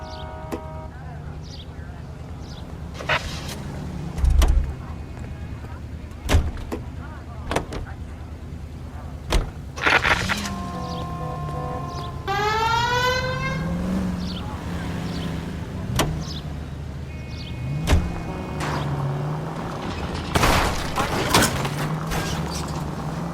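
A car driving in the video game L.A. Noire, a low engine hum running under intermittent thuds and clunks, a rising whine of revs and scattered mechanical knocks, with voices speaking over parts of it.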